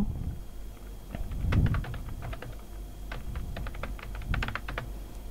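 Steady typing on a computer keyboard while filling out an online job application form, close and continuous clicking in irregular bursts over a low background hum.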